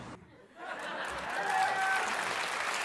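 A comedy show audience breaks into clapping that swells quickly after a brief pause, with laughter and murmurs mixed in.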